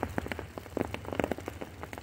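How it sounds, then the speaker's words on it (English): Heavy rain pours down outdoors beside a fishing spot, dense close patter of drops striking surfaces in quick irregular bursts, loud and alone. "it started pouring down rain on me"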